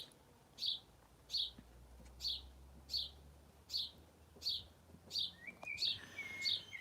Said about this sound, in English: The birds are very vocal today.